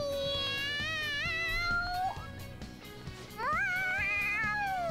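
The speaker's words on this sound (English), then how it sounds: "The cat's acting awfully excited." Animated cat in the video game Persona 5 Royal meowing excitedly in a few drawn-out, rising and falling calls over a busy game music bed, close and clear.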